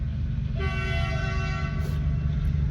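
A loud, sustained train horn blares over the heavy low rumble of rolling rail cars passing close by at a level crossing.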